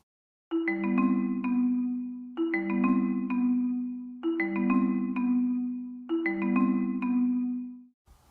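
Marimba part from a children's piece, playing a repeating four-bar pattern of bright mallet notes over a steady low bass line, clear and upfront with no voices.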